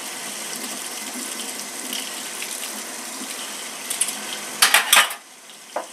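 Hot water running from a tap while a popcorn machine is cleaned, a steady hiss of flowing water with clinks and clatters of metal parts and dishes near the end.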